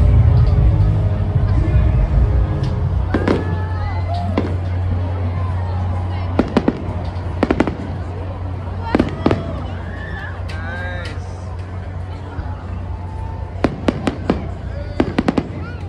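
Fireworks burst at the Calgary Stampede, a run of sharp loud bangs and crackles arriving in scattered clusters over a steady crowd hubbub, with people talking nearby.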